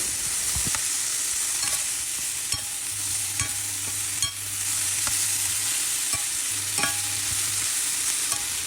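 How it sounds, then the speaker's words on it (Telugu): A spoon stirring a brinjal and tomato mixture with coriander in a hot pan, steady sizzle with scattered scrapes and taps of the utensil, close and continuous with no voices. "కొద్దిగా కొత్తిమీర కూడా వేసి అంత బాగా కలిసేలాగా ఈ మిశ్రమాన్ని మొత్తం కలపాలి"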